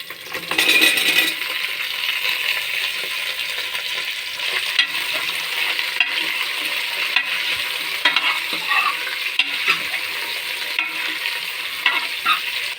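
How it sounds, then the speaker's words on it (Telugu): Pieces of bottle gourd and ivy gourd frying in hot oil for a vegetable rasam curry, a continuous bright sizzle with occasional stirring scrapes and clinks against the pan, steady and close with no talking. "ఈ ముక్కలు ఇలా ఆయిల్లో వేగుతుండి"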